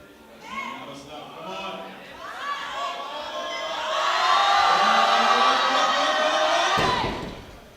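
A home crowd at a junior classic powerlifting championship swells into loud, sustained cheering and shouting that builds midway and cuts off suddenly near the end, with a commentator's voice talking over it.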